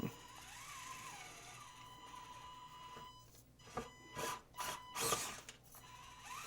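An Axial SXC30 RC rock crawler with small tires grinds up a steep rocky section, its electric motor whining in a thin, shifting tone that rises into several louder surging bursts near the end.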